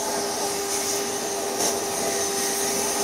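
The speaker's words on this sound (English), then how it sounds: "I vacuum all around the inside." A vacuum cleaner runs steadily and loudly while cleaning out the inside of an iRobot Roomba 960 dust bin, a continuous close whine with slight shifts as the nozzle moves.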